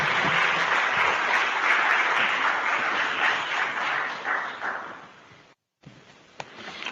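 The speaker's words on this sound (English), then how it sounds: "Let's thank him again by a round of applause, please." An audience at a remembrance and reconciliation event gives a round of applause that holds steady, then tapers off and dies out near the end.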